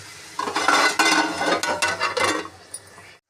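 Chopped tomatoes are stirred in a pan while cooking egg curry, with a few scraping and clinking spoon strokes against the pan over about two seconds, close and moderately loud.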